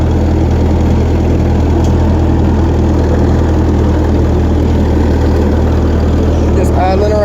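An old, cheap refurbished tractor engine idles steadily at night, a dense low rumble running the whole time with no talk, some brief higher tones near the end.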